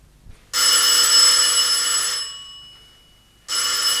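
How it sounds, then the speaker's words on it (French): An old telephone bell rings loudly in two bursts, a long ring of about two seconds trailing off, then a second ring starting after a short pause, from a 1960s French detective radio drama set in New York. "C'est le téléphone?"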